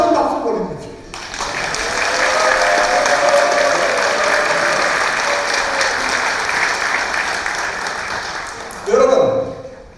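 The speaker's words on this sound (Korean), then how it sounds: "우리 장관님한테 다시 한번 박수 보내주십시오." Sustained audience applause at a Korean community rally in Sydney, a dense steady clapping roar lasting most of the stretch with a louder burst near the end.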